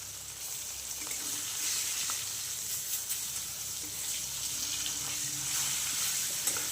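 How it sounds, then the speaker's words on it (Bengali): Four pieces of fish frying in hot oil for a kohlrabi fish curry, a steady bright hissing sizzle that stays fairly quiet and even throughout, with faint crackles and no voices. "মাছগুলোকে আমি ভালো করে ভেজে নিচ্ছি"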